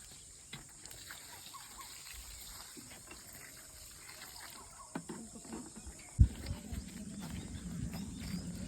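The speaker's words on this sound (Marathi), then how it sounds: "बोरिंगवर चाललंय पाणी भरणं प्यायचं" Quiet background hiss, then after a soft thud, water starts gushing from a borewell pipe on a farm in a steady low rush.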